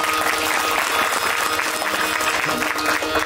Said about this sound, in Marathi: एकदा गायनाचार्यासाठी आणि मृदंगाचार्यासाठी टाळ्या वाजवा.